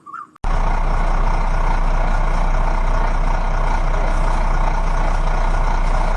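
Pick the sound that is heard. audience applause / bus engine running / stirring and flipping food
bus engine running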